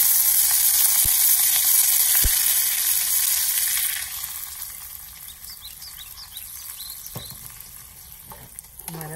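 Curry leaves crackle and sizzle loudly in hot tempering oil for kadhi, a dense hiss with sharp pops early on that settles into a steadier, quieter frying sizzle.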